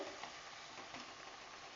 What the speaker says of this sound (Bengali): এই জলটা শুকনো হওয়া পর্যন্ত ভাজা ভাজা করতে হবে